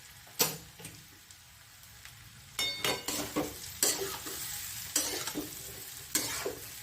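Okra masala stirred in a pan after amchur powder is added, giving repeated scraping and sizzling strokes at an uneven rhythm, with a near, moderately loud stroke about every second.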